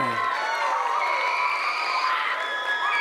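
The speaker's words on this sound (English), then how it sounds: "Let's give them a round of applause for joining us here this morning." A crowd of excited children at a space STEAM outreach event cheer, shout and whoop, with light applause mixed in, the high voices sustained and fairly close throughout.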